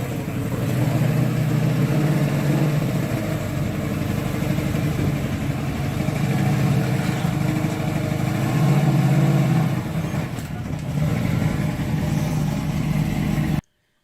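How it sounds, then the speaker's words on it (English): A 1969 Camaro Z28 engine runs steadily while the car is loaded onto a trailer, a continuous mid-low rumble with slight rises in revs, fairly close, no talking, ending abruptly. "this is a little video of the car being loaded on the trailer when I first bought it"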